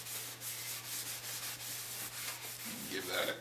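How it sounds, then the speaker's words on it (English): Guitar wood soaked in lighter fluid gets rubbed down by hand, giving a close, steady scrubbing with repeated strokes that ends in a brief louder rustle. "Give that a quick rub down."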